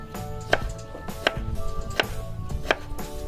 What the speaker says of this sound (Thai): เราจะมาหั่นมะม่วงกันค่ะ